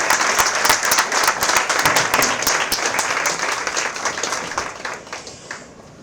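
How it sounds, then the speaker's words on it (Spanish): A lecture audience applauds José Miguel after a talk in a session on death, lively, crisp clapping that gradually thins and fades out over the last seconds. "Un aplauso, ¿no? Para José Miguel"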